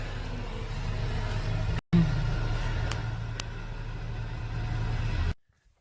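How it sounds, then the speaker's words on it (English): Road traffic hums around an idling vehicle stuck in a queue, a steady low engine drone with a brief dropout partway through, then it cuts to silence near the end. "They out here making our streets nice and smooth. Just gotta sit in traffic."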